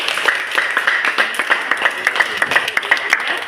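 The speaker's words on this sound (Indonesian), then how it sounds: "Kita kasih aplaus buat semuanya." An audience at a teachers' coaching workshop applauds the groups: a dense run of quick, overlapping hand claps at steady, moderate loudness, with no one speaking.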